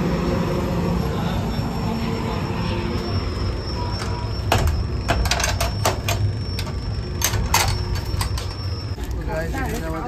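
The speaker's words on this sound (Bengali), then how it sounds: "আমরা এখন হাওড়া গয়া এক্সপ্রেসে আছি" Rumble and rattle from inside the 13023 Howrah–Gaya Express as it pulls away, with steady low wheel noise and scattered sharp clicks and clanks from the carriage, under intermittent talk in the coach.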